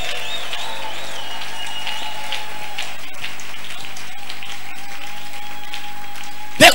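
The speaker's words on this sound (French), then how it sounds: "On acclame celui qui vit éternellement." A church congregation applauding during a Sunday service, a dense, steady wash of clapping that fills the room without a break and carries on under a sustained tone.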